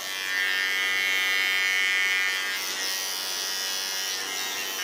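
An electric hair clipper buzzes steadily and close up while trimming the neckline during a pixie haircut on fine hair, a continuous high whine that shifts slightly in pitch as the blade moves.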